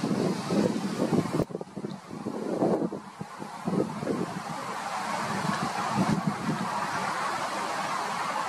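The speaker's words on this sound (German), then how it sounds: "Ganz schön windig hier." Strong wind gusting outdoors among trees in Australia, a loud blustery roar buffeting the microphone with rumbling surges and rustling, continuous across the whole stretch without talk.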